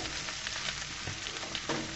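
Food fries in a pan until crisp, giving a short, continuous, fairly soft sizzle heard up close without any talking.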